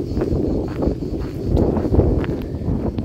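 Steady gusty wind buffeting the microphone, a dense low rumble with brief flurries, continuous throughout and fairly loud.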